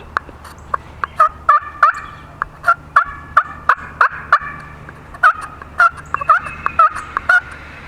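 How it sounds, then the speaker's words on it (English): A turkey slate call produces a rapid series of sharp, close yelps and clucks in short bursts, with brief pauses between groups. "Let me see if I can try and make some turkey sounds for you guys."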